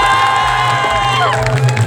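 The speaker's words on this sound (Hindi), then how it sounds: "एक बार सर के जोरदार ताली।" Loud crowd cheering and shouting with some clapping at a Hindi poetry gathering honoring the deputy chief minister, a dense sustained roar of voices with tonal whoops throughout.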